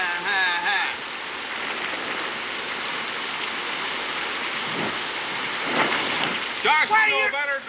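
Steady rain falls in a constant hiss over an outdoor frontier homestead, with voices speaking over it at the start and end.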